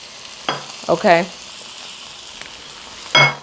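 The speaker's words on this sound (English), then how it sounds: "You'll hear some more sizzling." Italian turkey sausage sizzles in a frying pan with a soft steady crackle, broken by a few sharp clinks. A voice speaks one brief word.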